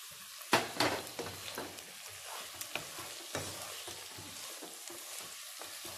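Ground masala, tomatoes and green chillies frying with onions in a pan, a continuous sizzle broken by scraping stirs and spoon clatter, loudest at first then settling to a steady crackle.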